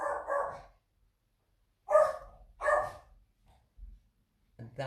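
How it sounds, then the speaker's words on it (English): A pet dog indoors gives a few short, separate barks with gaps of quiet between them, close to the microphone and fairly loud. "That was my dog saying hi."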